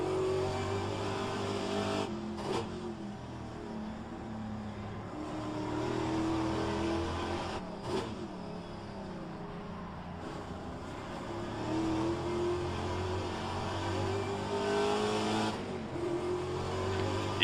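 A Pontiac race car runs laps around the Road Atlanta circuit, its engine droning steadily and loud with rising pitch sweeps as it accelerates and shifts up through the gears, continuous throughout without talk.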